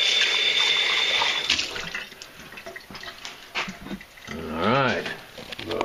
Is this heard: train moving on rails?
no